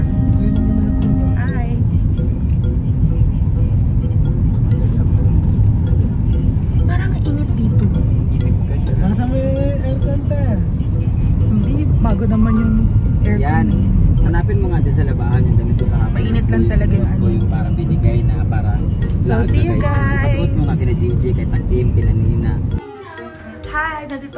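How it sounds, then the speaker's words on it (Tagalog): Cabin of a moving taxi with a low steady road and engine rumble underneath, mostly covered by several people chatting and laughing, ending in a sudden drop to quiet. "Taxi po kami, si Kuya po driver."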